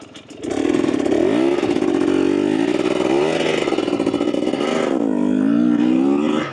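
A 2024 Husqvarna TE250 two-stroke dirt bike pulls away, its engine rising and falling in pitch as the throttle blips, loud and close throughout.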